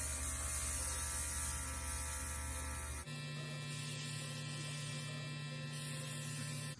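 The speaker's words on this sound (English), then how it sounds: "you take your airbrush and just lightly spray" An airbrush spraying makeup gives a steady faint hiss with a low hum, which shifts tone partway through and then carries on evenly.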